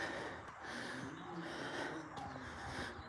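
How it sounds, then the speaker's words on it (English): Someone walking up a steep hill breathes hard with heavy, rasping huffs and snorts close to the microphone, over a steady outdoor rumble. "Ooh, I am breathing hard. This is the steep hill that I'm going all the way up there."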